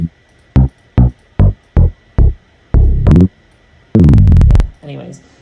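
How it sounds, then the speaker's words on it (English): A DX7-style synth bass from Analog Lab plays a run of short punchy plucked notes in a steady rhythm, followed by a few longer, brighter sustained notes, loud and upfront with no other instruments. "It's this, it's like a DX7 bass."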